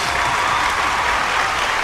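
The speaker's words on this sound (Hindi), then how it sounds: "जोरदार ताली से स्वागत करी" Dense, steady applause from a studio audience at a Bhojpuri music singing competition, welcoming a singer onto the stage, loud and close throughout with a faint crowd murmur beneath.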